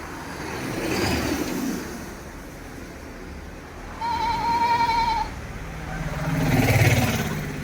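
Goats bleat in a farm-sale setting, a mother goat with her two young male kids, with a couple of loud close calls, the clearest a sustained tonal bleat mid-clip and another rougher one near the end, over faint background traffic.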